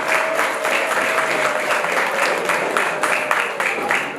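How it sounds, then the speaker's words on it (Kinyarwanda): A Rwandan wedding crowd claps steadily for several seconds, a dense, even wash of applause heard close up, with a faint voice or tone running beneath it. "umva ayo mashyi muyongere rwose yumvikane"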